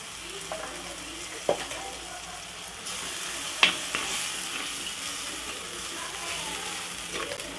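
Pepper chicken curry with yogurt and salt bubbling at a boil in a pan, a steady soft sizzle and simmer with a few sharp clinks of a utensil against the pan, no talking.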